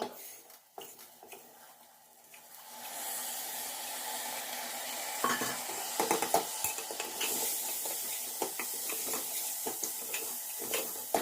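Spices and chilli roasting in a pan for khichdi, giving a steady hissing sizzle that swells after the opening seconds, broken by light scrapes and clinks of a utensil against the pan.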